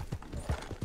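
A horse's hooves clip-clop steadily in a video game, a fast regular rhythm of low thuds over a wash of background game sound.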